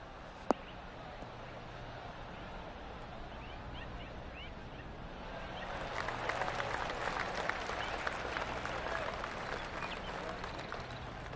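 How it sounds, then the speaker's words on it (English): Golf gallery in the PGA Tour 2K23 game breaking into a polite round of light clapping that swells midway and carries on steadily, with a voice faintly underneath. "Oh, golf clap."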